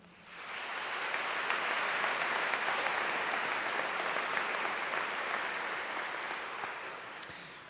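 A crowd at a 2018 NECO graduation ceremony applauds a group of alumni, the clapping swelling in quickly and holding as a dense, even roar before easing slightly toward the end.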